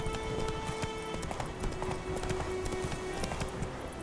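Horse galloping in The Witcher 3 video game, a steady rapid clip-clop of hooves right up close over a busy backdrop of game sound and tones.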